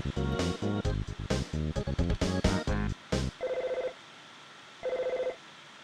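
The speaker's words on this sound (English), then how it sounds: "Phone call." A telephone rings in the SNES game Earthbound, following a rapid run of chiptune notes with two separated electronic ring tones, each a buzzy trill lasting about half a second.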